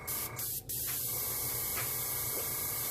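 An airbrush sprays alcohol ink onto a ceramic tile, giving a close, steady hiss that breaks off briefly twice near the start and then runs on evenly.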